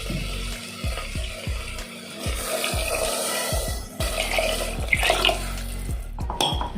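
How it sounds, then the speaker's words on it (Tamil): Water pours into a cooking pot for mango bisi bele bath in a steady splashing stream with a few metallic clinks, close by and fairly loud. "நாலு டம்ளர் தண்ணி ஊற்றணும்."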